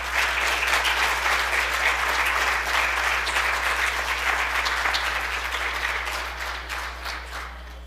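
Sustained audience applause at a WVGS meeting honoring the outgoing past president, dense steady clapping filling the room for several seconds and thinning slightly toward the end, with no speech.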